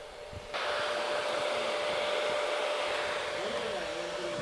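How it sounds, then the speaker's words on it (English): A blow dryer switches on during a men's haircut in a barbering demo and runs with a loud steady whooshing roar, close by, while someone speaks faintly under it. "Can you hear me with the blow dryer on?"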